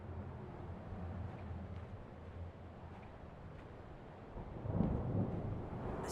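A thunderstorm in the video game Return to Grace, with a steady wash of rain and low rumbling that swells into a heavier roll of thunder near the end, heard alone without talk.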